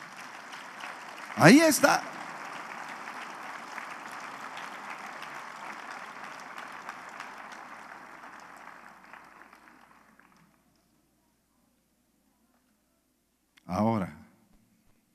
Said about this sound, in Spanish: ¿por qué aplaudes?